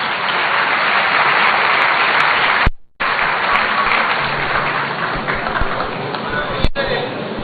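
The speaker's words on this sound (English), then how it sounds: "Shall we welcome him with a round of applause, please?" A large audience at a citizens' engagement event at Ho Technical University in Ghana claps in sustained, loud, dense applause with a brief dropout partway through.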